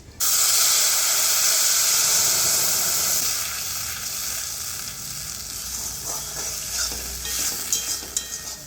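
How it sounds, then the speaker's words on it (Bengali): Ground spice paste sizzles loudly in hot oil for a potol (pointed gourd) korma, a strong steady hiss that eases after a few seconds, with light stirring scrapes and clinks toward the end. "বেটে রাখা মশলাটা দিয়ে দিচ্ছি"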